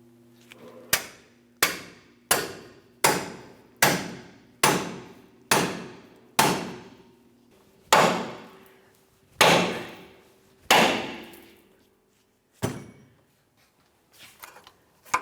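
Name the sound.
hammer striking pickle fork on ball joint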